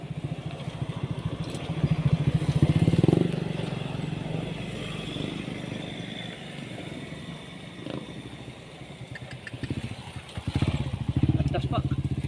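A broken-down tricycle motorcycle's engine runs at a low, uneven putter beside a roadside, with people talking nearby over the rumble.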